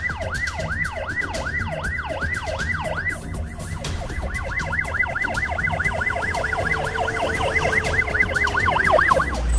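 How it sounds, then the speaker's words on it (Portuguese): An ambulance siren wails in rapid repeating sweeps that quicken into a faster yelp and grow gradually louder as it approaches, with traffic rumble underneath. "Já tá chegando a ambulância."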